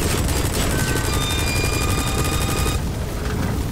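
A helicopter in Metal Gear Solid V: The Phantom Pain drones loudly with rapid rotor pulsing, mixed with dense gunfire, then cuts off abruptly near the end.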